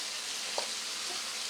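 Tomato, ginger and green chilli sautéing in a pan for Bengali tangra fish rosha, a steady close hiss of sizzling oil with a faint stir or two and no voices.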